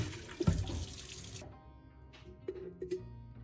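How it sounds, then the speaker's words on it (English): Tap water gushes while an air fryer basket is rinsed in a kitchen sink, a steady rush that stops after a second or so, followed by a few faint splashes and drips. "rinse the basket with clean water until it feels fresh and clean again"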